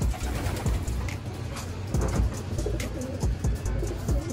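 Breeder pigeons coo in a loft, with soft, low, repeated calls close by over a steady background hum.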